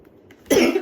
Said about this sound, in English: So sorry for my ugly barking cough.